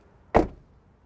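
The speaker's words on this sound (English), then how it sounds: "Let's hear that door close noise." A single door on a 2023 Acura Integra shuts with one short, dull thud, close up and alone against a quiet background.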